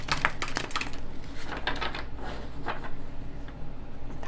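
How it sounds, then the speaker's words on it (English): Tarot cards being shuffled by hand, quiet crisp flicks and soft papery rustles in an irregular run, close and faint, with no talking. "Shuffle through these a little more."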